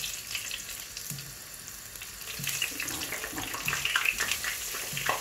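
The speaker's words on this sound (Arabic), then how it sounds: "هلا بنقليهم بهالطريقة" Food frying in oil in a home kitchen, a hissing, watery sizzle that swells louder toward the end with crackling pops, alone without voices.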